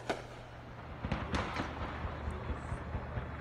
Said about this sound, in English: I thought that first one might have been a 20mm cannon